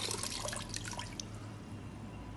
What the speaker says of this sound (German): Mach's leicht nass, zieh's leicht aus.